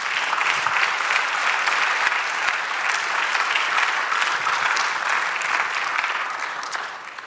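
A church congregation claps together during a sermon, loud sustained applause filling the room evenly for several seconds before tapering slightly at the end.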